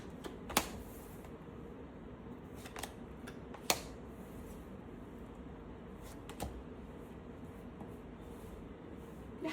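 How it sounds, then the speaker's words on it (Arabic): Tarot cards drawn and handled at a quiet table, soft sharp taps and flicks scattered irregularly over a low hiss, close and faint. "يلا بينا كده نسحب أول 5 كروت الطاقة السابقة بتاعتكم."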